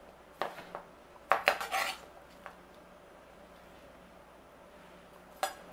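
A peeled cucumber is cut into chunks for a fresh summer tomato salad, with a few sharp knife knocks and clatters on the cutting board arriving in irregular bursts separated by quiet gaps.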